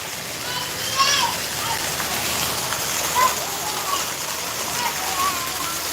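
Heavy rain pours steadily over a village home garden with hail mixed in, a dense continuous hiss with a few sharper taps and splashes standing out.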